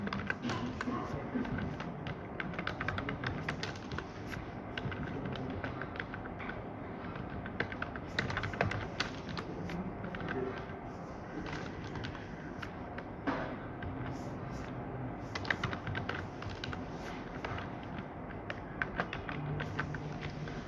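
Irregular bursts of rapid keystrokes on a computer keyboard while writing Python code, close and crisp, with short pauses between runs of tapping.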